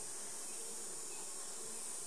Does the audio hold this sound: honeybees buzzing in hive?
yes